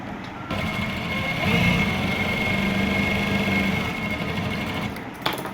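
A sewing machine stitches a shirt panel in a steady, fast mechanical whir with a constant high hum, running continuously for several seconds before stopping, close and alone without speech.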